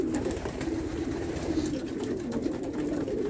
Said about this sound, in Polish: Mocny gołąb.